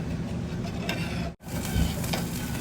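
Thick panang curry is stirred in a pot with a steady scraping and bubbling, broken by a brief pause midway before the stirring resumes.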